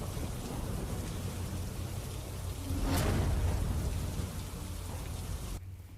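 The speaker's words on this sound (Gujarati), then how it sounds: "અમરોલી વિસ્તારમાં પણ વરસાદ છે।" Heavy monsoon rain pours down steadily in the Amroli area, a dense, loud roar of drops broken near the middle by a sharp crack of thunder, with no voices before it cuts off.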